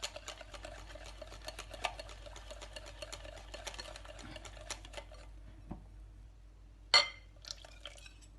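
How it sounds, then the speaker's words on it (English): Crêpe batter mixed in a bowl, a rapid, continuous ticking of a whisk or utensil against the bowl for several seconds, then a pause and a couple of sharp clinks, close and quiet. "Make sure and mix it really well."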